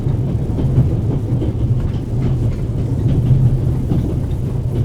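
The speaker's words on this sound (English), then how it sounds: "This train began in Paris and ends in Istanbul, as usual." Steady low rumble of the Orient Express rolling along the rails in the video game The Raven Remastered, a continuous close interior drone with faint rhythmic clatter and no voices.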